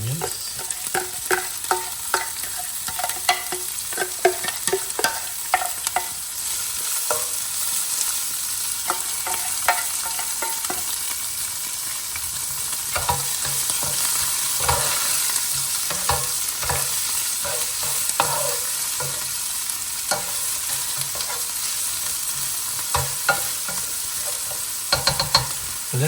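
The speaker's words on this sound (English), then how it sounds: "So let's allow this to fry for like 2 to 3 minutes." Onions frying in a pan for Chettinad chicken gravy after chilies, a continuous loud sizzle with frequent stirring scrapes and clacks of a spoon throughout, no talking.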